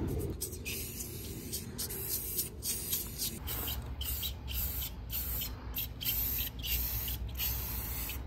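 Clear coat sprays from an aerosol can onto school bus windows, coming in repeated hissing bursts with short gaps, fairly faint, with some handling noise.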